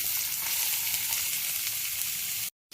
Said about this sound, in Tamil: கடாய் ஹீட் ஆகிருச்சு, ஆயில் போட்டாச்சு. இதில் ஆனியன்